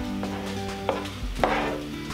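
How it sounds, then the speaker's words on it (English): Vegetables pushed and stirred across a hot Presto indoor griddle, a steady sizzle with a couple of sharp scraping clicks from the utensil, close and alone. "So I'm pushing all my veggies over here to the side just to keep them warm."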